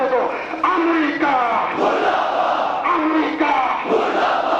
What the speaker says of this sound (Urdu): لہذا بھرپور نعرے کا جواب دے دو۔